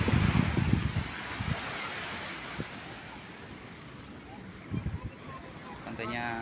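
Gentle ocean waves at Kuta beach, Mandalika, wash in with a soft, steady rush under wind, broken by a few brief bursts of nearby talk.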